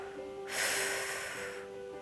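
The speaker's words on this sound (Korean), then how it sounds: "다시 코로 마시고 내쉬고" During a calf and iliopsoas stretching exercise, one steady, airy exhale lasts about a second, close and soft against a quiet room with a faint background tone.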